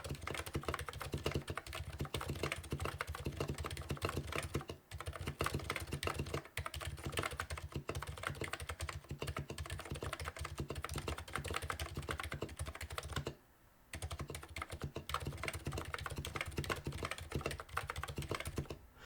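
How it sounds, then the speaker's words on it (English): A full-size custom electro-capacitive keyboard is typed on rapidly and continuously, giving close, crisp thocking keystrokes with a short pause near the end and no voices. "I guess there's nothing else to do except for give it the old typing test"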